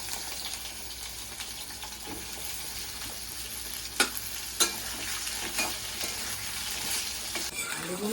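Potatoes frying in hot oil in a home kitchen while preparing a vegetarian chhena kofta curry, a soft continuous sizzle with scattered sharp pops and crackles, one louder spit, and a brief clatter at the end.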